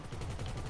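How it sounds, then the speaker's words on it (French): Sustained machine gun fire from Grand Theft Auto V, a steady dense rattle of rapid shots at moderate level, with no talk over it. "C'est toi qui as tiré à la mitrailleuse, non?"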